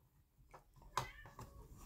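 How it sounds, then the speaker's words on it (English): A house cat meows and complains from nearby, a few short plaintive calls scattered across the moment, with faint background noise between them. "My cat is complaining that I'm not letting her come in and destroy everything that I own."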